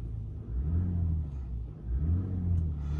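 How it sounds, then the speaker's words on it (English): A Land Rover Defender L663 engine, heard from inside the cabin, rumbles low and steady with two smooth swells in revs over a continuous idle, with no talking. "Start the car."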